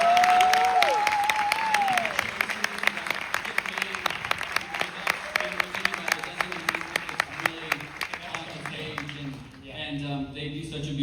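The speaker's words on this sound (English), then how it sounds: "We should just give Guy and Ryan, the writers, a special round of applause." Audience applause after a horror-comedy premiere Q&A at SXSW, broad steady clapping from a large crowd with a voice speaking over it early on, fading toward the end.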